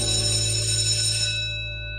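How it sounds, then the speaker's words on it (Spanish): A school bell rings for the end of recess, a loud sustained metallic ring with bright overtones that holds and then fades out near the end, heard alone. "mientras suena el timbre de final del receso"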